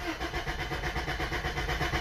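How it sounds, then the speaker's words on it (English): A car engine cranks over on the starter during a compression test, a steady rhythmic churning with regular pulses from each turn of the pistons. The sound is close, continuous and runs the whole time, with no voices. "I'm going to crank the engine now"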